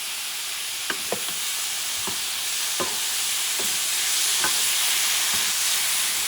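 Grated tomato sizzles steadily in a hot paella pan for a chicken paella Valenciana, with a utensil scraping and stirring at irregular moments over the constant frying hiss.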